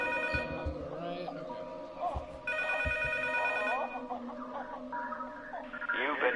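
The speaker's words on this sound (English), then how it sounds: "I guess I'm gonna go answer the phone." A telephone rings inside the horror video game P.T., with repeated bright ring bursts over a low ambient game background, fairly quiet overall.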